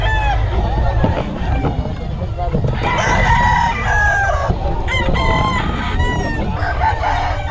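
Chickens and roosters crow and cluck loudly and close by at a busy market stall where chickens are sold, several birds overlapping continuously alongside background bustle.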